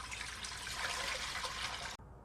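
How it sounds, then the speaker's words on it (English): About two liters of water pour into a pot for Korean janchi guksu noodle broth, a steady close rushing splash that runs for about two seconds and then cuts off abruptly. "I'm going to put water around 2 liters."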